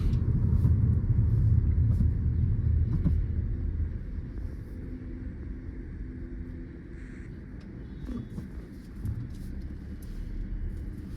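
Road traffic on a busy highway, heard from inside a moving car: a steady low engine and tyre rumble, loudest at first and then easing slightly, with faint passing vehicles and occasional small knocks.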